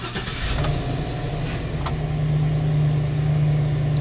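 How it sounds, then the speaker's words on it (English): Chevrolet Express van with a 6.0L engine, suspected of a faulty thermostat, starts up and settles into a steady, low idle hum, heard up close with no talk. "So the engine is running."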